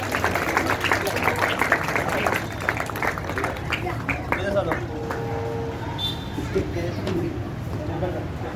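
Clapping from spectators at an outdoor children's yoga display, rapid applause that fades into sparse claps, heard under someone talking over a loudspeaker, with pigeons cooing in the background.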